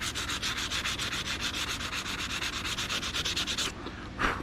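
Aluminum trim is hand sanded with 400 grit sandpaper in fast, even back-and-forth strokes, a close, steady rasping rhythm that stops abruptly near the end, followed by a brief scuff.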